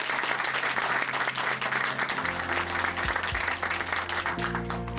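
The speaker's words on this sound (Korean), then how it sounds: "오늘 귀한 간증 전해주신 김호영 형제님께 다시 한번 박수 보내드리겠습니다" A church congregation at Chuncheon Hanmaum Church applauds after a testimony, steady dense clapping from many hands filling the room, with sustained music tones rising underneath toward the end.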